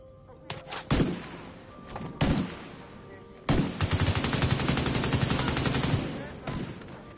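Gunfire in the video game The Division 2: a few separate loud shots early on, then a long sustained automatic burst lasting about two seconds, with game voices in the background.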